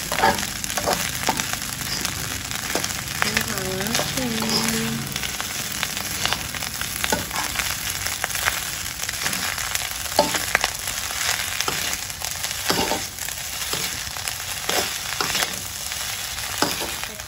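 Crackers and tempeh fry in a pan of hot oil, a dense continuous sizzle with scattered crackles and pops and occasional stirring scrapes, close and steady with no talking.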